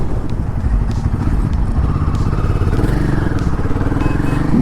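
A Royal Enfield Guerrilla 450, a 450cc motorcycle, is ridden with its engine close and loud, a continuous throbbing drone with slight clattering over a few seconds and no talking.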